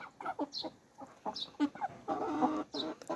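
Several broiler chickens cluck in short, irregular bursts close by in an outdoor run, with soft background noise and no talking.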